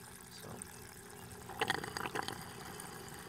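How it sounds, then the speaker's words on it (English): Water gurgles and splashes as a hydroponic bell siphon drains a garden grow bed, quiet trickling building into a burst of bubbling pours in the middle before settling back to a faint flow. "for like our bell siphon here where the water level's getting a little high"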